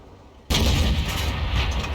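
A single tank cannon shot in World of Tanks from an Object 274a, a sudden heavy boom that breaks a quiet lull and rolls on as a loud, sustained rumble.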